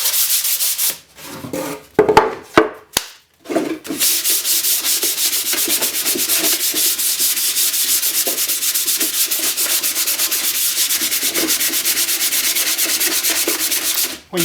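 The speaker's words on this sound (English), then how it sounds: "When you sand, it's best to sand along the grain." A wooden Zenith table radio cabinet being hand sanded with the grain: a few short scrapes, then steady, close, continuous rubbing strokes that carry on for about ten seconds.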